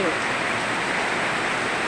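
Rain falls steadily from a dark sky over rice fields: an even, continuous hiss, close and moderately loud, with no breaks.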